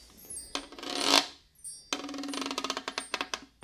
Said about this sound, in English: You've got your guiro.